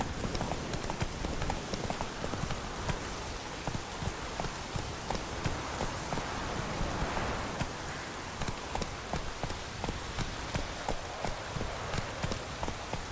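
Roach, the horse in The Witcher 3, gallops with quick, evenly repeating hoofbeats, a driving close rhythm over a dense wash of ambient game noise.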